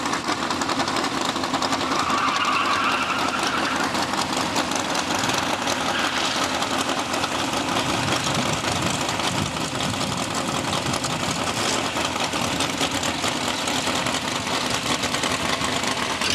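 A racer powered by a washing machine engine runs with a continuous rapid mechanical chatter and buzzing drone, steady and fairly loud throughout with no voices.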